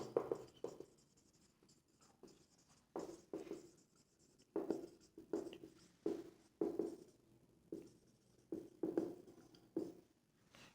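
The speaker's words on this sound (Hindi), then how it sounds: "चौथा लिखेंगे।" Chalk or pen marks on a board during a Class 11 Hindi-medium maths lesson on complex numbers, sounding as crisp, close taps and short scratchy strokes in uneven bursts, with quiet pauses between, no voice.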